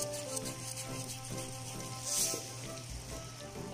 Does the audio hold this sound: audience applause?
no